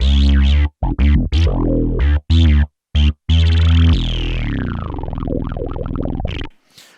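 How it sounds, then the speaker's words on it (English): Roland System 8 synthesizer plays a short bass line: punchy, distorted, rhythmic bass notes in quick bursts, then a long sustained note with sweeping filter modulation that fades out. "So I'll just play a little bass line."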